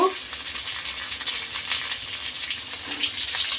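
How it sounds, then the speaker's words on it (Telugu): Onions and curry leaves fry in hot oil, a bright continuous sizzle close to the pan with faint scraping, steady throughout with no talk. "ఉల్లిగడ్డ అనేటివి కొంచెం బాగా ఫ్రై అవ్వాలా ఈ కలర్ అయ్యేదాకా ఫ్రై చేసుకోవాలండి"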